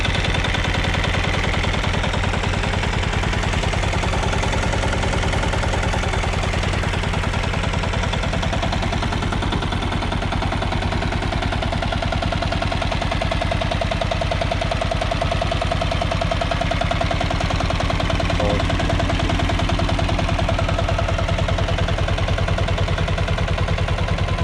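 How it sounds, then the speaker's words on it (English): A Royal Enfield Bullet Diesel motorcycle idles at an antique motorcycle meet with a loud, continuous, rapid knocking chug. The engine runs steadily and close up for over twenty seconds with no talking. "So Royal Enfield Bullet Diesel. That's a diesel motorcycle."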